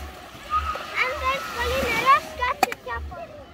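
Water splashes and gurgles into a hole dug in beach sand as a small child fills it, with the child and an adult talking over the steady watery noise.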